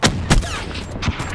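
Sniper rifle shots in Call of Duty Black Ops III, two or three sharp cracking reports in quick succession amid game combat noise, loud and close.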